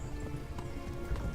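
Horse galloping in Kingdom Come Deliverance: a brief burst of muffled hoof clip-clops in quick rhythm, moderately loud against a low rumbling background, with no talk.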